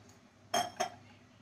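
A metal pressure cooker is picked up and handled in a home kitchen while preparing sambar and idli, giving two sharp, close clinks about a quarter-second apart against a quiet background.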